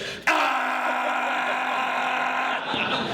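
A voices a loud, rough, sustained roar imitating the exhaust of a submarine diesel engine. The close, harsh growl holds steadily for about two and a half seconds before breaking off.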